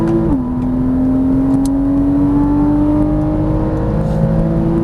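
Porsche Cayman S engine pulling hard out of a corner on a race track, a loud close-up steady tone that drops after a shift and then climbs gradually as the revs build.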